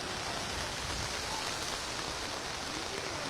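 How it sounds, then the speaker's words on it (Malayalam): Heavy rain pours steadily over Kochi city, a dense, even roar of falling water with no break. "ഏതാണ്ട് വൈകുന്നേരത്തോടുകൂടി അതിശക്ത മഴയാണ് കൊച്ചി നഗരത്തിൽ പെയ്തുകൊണ്ടിരിക്കുന്നത്"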